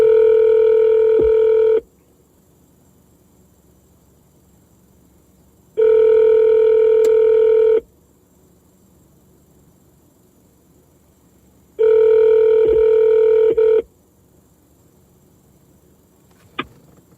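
A telephone rings unanswered: three loud two-second ring bursts spaced about four seconds apart, with quiet line hiss in between.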